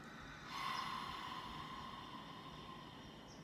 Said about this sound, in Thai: หายใจออกเป่าค่ะ